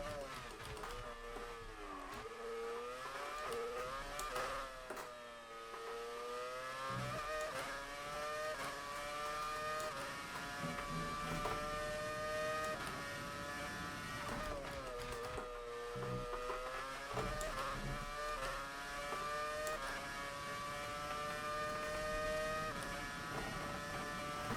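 Brawn BGP001 Formula 1 car with a V8 engine in the F1 2019 racing game, high-pitched engine note climbing and dropping through upshifts and downshifts, loud and continuous throughout.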